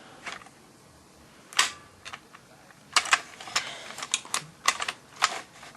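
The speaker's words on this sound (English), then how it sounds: "So it just keeps doing that, just keeps firing over and over again." A Nerf Stampede blaster with a faulty switch fires again and again on its own, each shot a sharp mechanical clack, first scattered and then coming in a quicker, uneven string, close up.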